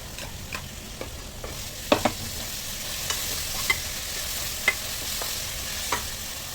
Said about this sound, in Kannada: ಹಸಿ ವಾಸನೆ ಹೋಗೋವರೆಗೂ ನಾವು ಫ್ರೈ ಮಾಡ್ಕೋಬೇಕು